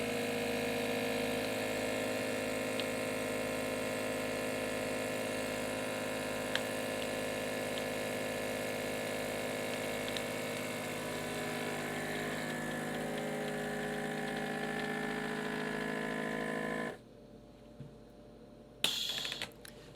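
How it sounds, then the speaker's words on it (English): A vacuum sealer running on a bag of beef packed in dry cure, giving a steady droning motor hum that holds evenly for most of the stretch before cutting off abruptly, followed by a short click. "Okay, into the vacuum sealer."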